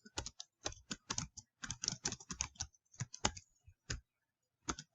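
Quick bursts of clicky computer keyboard keystrokes, close and crisp, in uneven rhythmic runs with short pauses, no voices over them.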